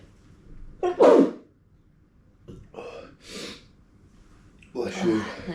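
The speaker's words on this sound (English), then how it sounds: "Oh, it's a sneeze." A person sneezes after eating an extremely hot pepper, a sharp close sneeze followed by snorting and breathy gasps with short bursts of speech in a quiet room.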